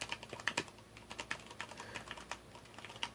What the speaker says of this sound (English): that's me pressing fairly hard on the keys, so it's not that loud at all